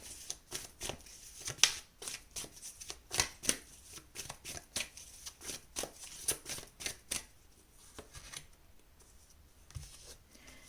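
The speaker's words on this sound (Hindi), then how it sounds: "We'll take 3 cards for your past, 3 for your present, 3 for your future." Tarot cards shuffled and drawn for a pick-a-card reading make soft, close slaps and flicks in an uneven rhythm, quiet throughout with no talk.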